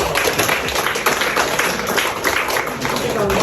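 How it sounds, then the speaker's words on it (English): An audience applauds culinary arts students at a showcase, a loud, continuous wash of many clapping hands with voices mixed in beneath. "let's give them a round of applause"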